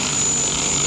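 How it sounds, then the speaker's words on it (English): A car starter motor from a 2009 Mercury Milan/Ford Fusion 3.0L, jumped across its solenoid with a screwdriver on a bench, spins with a steady high-pitched whine, brief and loud, alone. "This starter appears to be working good."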